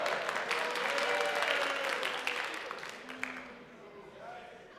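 An audience at an evening lecture hall talk on empathy breaks into steady, dense clapping that gradually thins and fades out over several seconds.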